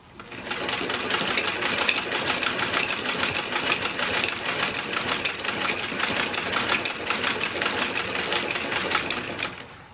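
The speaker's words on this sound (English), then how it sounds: "we're sewing on the skirt right now. I'm using the hand crank" A hand-crank sewing machine stitches a skirt for a 1940s party dress, with rapid, even clicking that runs steadily throughout and no talk.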